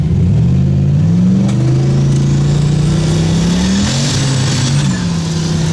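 A Ford Fairmont pulls hard in first gear, its engine note rising loud and close in a steady climbing drone, dipping briefly and rising again near the end.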